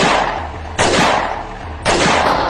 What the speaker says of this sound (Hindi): जेसन बाबा पे गोली चलाने लगता है।